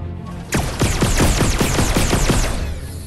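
Rapid bursts of weapon fire in the VR game Red Matter 2, a dense run of about a dozen sharp close shots repeating at an even rhythm, loud against quiet background.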